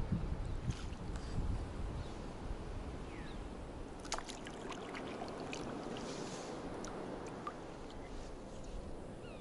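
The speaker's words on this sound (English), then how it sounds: "it's too shallow to negotiate in here with the trolling motor, so we'll just paddle our way" A canoe is paddled through shallow water near cedars. Water sloshes and gurgles steadily under light wind rumble, with scattered small drips and knocks from the paddle and hull, close by and with no talking.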